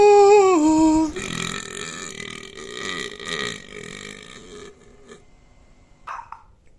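A powerful, loud, close burp opens with a deep tonal croak that drops in pitch, then gives way to a long rattling belch that trails off, followed by a brief sound near the end.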